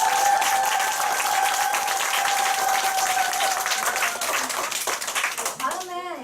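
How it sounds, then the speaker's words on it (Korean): Crowd applause at a business group meeting, loud and steady from the start, with a tonal whistle or feedback line running through it, fading near the end as a voice begins. "우리 다시 한번 큰 박수 보내드릴까요?"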